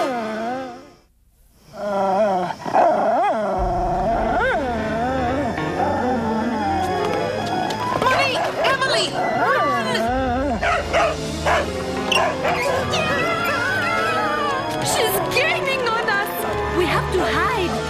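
An animated dog growls and barks in a cartoon scene, sharp yips and whimpering tones breaking out over busy music and sound effects, with characters talking around the noise.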